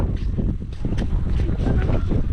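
Cold wind buffets a microphone outdoors by a riverside, making continuous loud low rumbling gusts that fill the whole moment.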